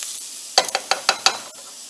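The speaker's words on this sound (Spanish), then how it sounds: "Lo vamos a poner con una cucharada de mantequilla y ya lo vamos a dejar hervir." Rice with cabbage and a spoonful of butter sizzles in a pot, several sharp crackling spits in quick succession over a quiet background, close and loud.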